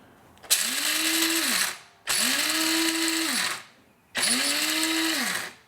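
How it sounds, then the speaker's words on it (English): A coffee grinder pulses coffee beans in three bursts of about one and a half seconds each, loud and whirring, each rising quickly in pitch, with short pauses between. "So you don't want to grind this coffee too fine. So I'm going to go ahead and hit this a few times."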